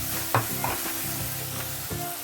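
Masala with tomato puree fries gently over a slow flame, a soft steady sizzle with occasional spoon stirs and scrapes, close by with no voices.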